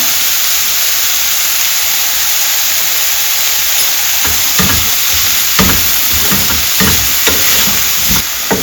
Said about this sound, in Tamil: ஸோ அதனால் கேரட்டும் பச்சை பட்டாணியும் நேரம் வதங்கட்டும்